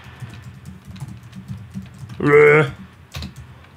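A brief burst of computer keyboard typing during a Minecraft Hunger Games match, a short rapid clatter of keys standing out over quieter game sounds and voices.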